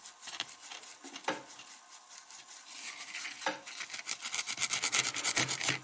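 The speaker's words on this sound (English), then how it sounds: "And just kind of Scotch-Brite that up a little bit" A Scotch-Brite pad rubs against a metal part of a vintage Firebird butane lighter, giving close, repeated rasping scrubs that grow busier toward the end.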